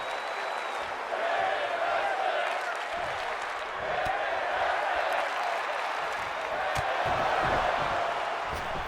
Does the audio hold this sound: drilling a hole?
no